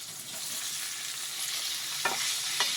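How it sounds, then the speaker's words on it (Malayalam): Sliced brinjal sautéing with green chillies in a pan: a steady, continuous sizzle with a couple of brief scraping stir strokes near the end, no voices. "വഴുതനങ്ങ കൂടി നമുക്കൊന്ന് നല്ലോണം വഴറ്റി"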